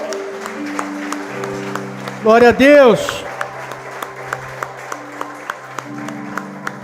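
A crowd claps continuously with sharp, regular claps standing out, while someone briefly speaks over it.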